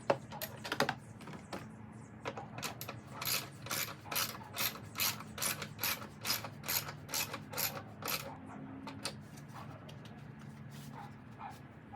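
Bolts on the washer fluid reservoir of a 2016 Nissan Rogue are tightened with a ratchet, giving rapid bursts of close metallic clicking in several runs with short pauses between them.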